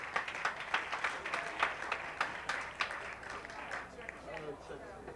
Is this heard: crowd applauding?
yes